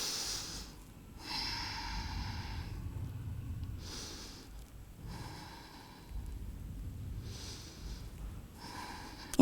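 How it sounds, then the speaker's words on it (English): Slow, deep nasal breaths during a Pilates forward fold, several inhale-exhale cycles repeating at a relaxed, even pace, close and fairly quiet with no talking. "take 3 deep breaths"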